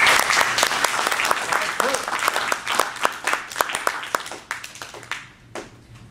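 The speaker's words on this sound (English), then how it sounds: "Let's give Kurt a round of applause." Audience at a coaching class for advanced interpersonal communication breaks into loud, close applause, dense clapping that gradually thins and fades out toward the end.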